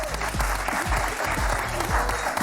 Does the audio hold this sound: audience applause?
yes